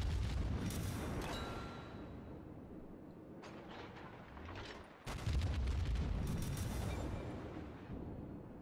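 Heavy naval gunfire from the battleship Des Moines in World of Warships, with loud deep booms rolling in two broad waves, a dense sustained roar that dips briefly in the middle before a fresh blast resumes.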